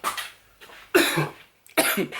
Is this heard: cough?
yes